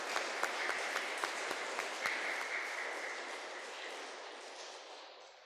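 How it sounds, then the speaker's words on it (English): A congregation at a weekday Mass claps for its sacristans, lectors and altar servers: a few sharp early claps lead into a soft, steady applause that gradually fades away. "so let us give them a clap and appreciate it."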